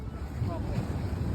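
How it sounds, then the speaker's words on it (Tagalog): Strong sea waves roar and rumble close by on the shore at San Felipe, Zambales, heavily buffeted by wind gusting across the microphone. "Ang lakas ng alon."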